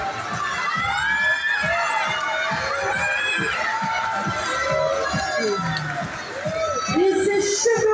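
Crowd cheering and shouting at a primary school children's running race in Paris's 9th arrondissement, continuous excited voices and children's shouts with some clapping, a commentator talking over the noise.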